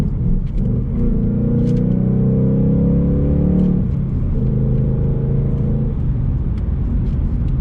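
A 2019 Ford Mustang GT's engine drones steadily while driving, its pitch climbing under throttle, then dropping sharply at a gear shift before pulling again, heard loud and continuous from inside the car.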